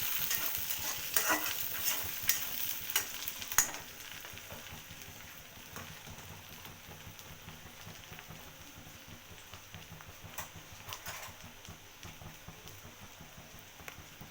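Whole spices such as cardamom, bay leaf and cinnamon fry in a pan with a steady, soft sizzle and scattered stirring scrapes, louder for the first few seconds and then settling into a quiet, even crackle.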